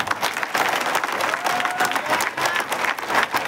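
An audience at a political gathering breaks into hearty applause, dense overlapping claps rising and dipping in waves throughout.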